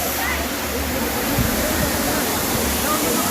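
Bolinao Falls, a waterfall, roars as a steady, loud, broadband rush that fills the whole stretch without letup, heard from close by.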